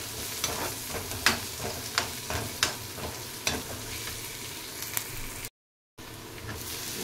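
Onions sautéing to golden brown in a pan for a potato and pea kootu, with a steady sizzle and repeated sharp scrapes and clacks of a spatula stirring, close and moderately loud, with a brief dropout near the end.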